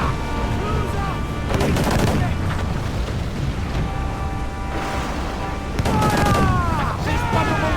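Booming ship cannon fire and gunfire in Assassin's Creed IV: Black Flag, with loud repeated blasts and crackling volleys over a constant roar of the sea battle, while voices shout during the fight.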